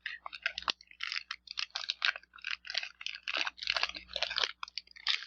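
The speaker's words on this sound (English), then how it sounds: "Gotta love the sound of a crinkle pack." Foil wrapper of a crinkle-style trading card pack crackles and rustles as it is torn open up close, a dense run of sharp crinkling bursts with brief pauses, no voices.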